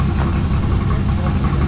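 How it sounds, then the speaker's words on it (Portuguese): A pickup truck engine rumbles low and steady at close range, idling with a rough, vibrating drone. "já liga aí pra fazer ronco mais alto do carro do mundo"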